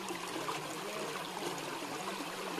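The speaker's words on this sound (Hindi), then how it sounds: "केटल अभी धो लेंगे यहीं पे।" Water flowing steadily at a riverside while a kettle is rinsed, a continuous rushing trickle and gurgle with no clear separate clanks, close and even throughout.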